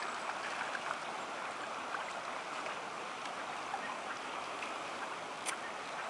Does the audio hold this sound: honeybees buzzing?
no